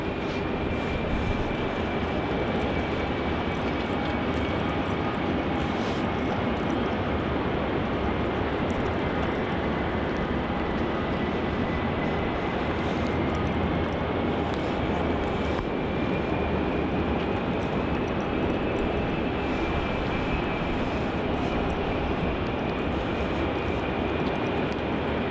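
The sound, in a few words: Qantas QF413 plane landing on runway 34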